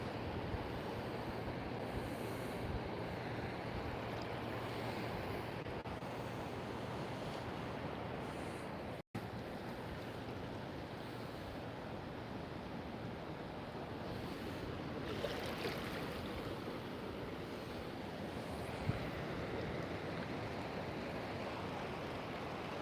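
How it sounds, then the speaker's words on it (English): A gentle easterly breeze of about three miles an hour blows by the water, a soft, steady rush of wind mixed with faint surf, distant and low in level with no speech. "it's about a 3-mile-an-hour breeze, gentle breeze"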